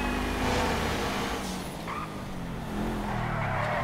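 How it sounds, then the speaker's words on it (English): Maserati Gran Turismo driven in GTA 5, with a steady engine drone, tire squeal and skidding as the car is pushed hard, the engine pitch shifting up and down throughout. "f you guys have been following Lionel Messi, you guys know this was his main car, the Maserati Gran Turismo."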